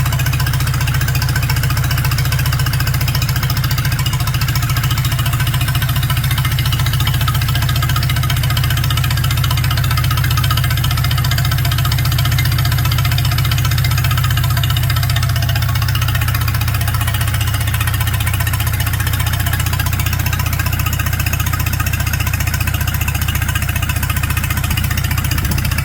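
A Palmer 60 VD engine, a vintage yellow-and-green unit that is not a tractor, runs steadily at idle with a low, dense, even chug that holds close and loud through the whole stretch, with no voices.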